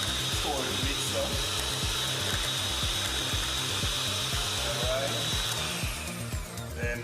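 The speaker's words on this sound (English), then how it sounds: "whisking my egg here with my small storage mixer." A small electric hand mixer whisks an egg in a bowl, giving a steady close-up motor whir with a high whine and a rapid repeating beat of the beaters, running continuously before easing off at the end.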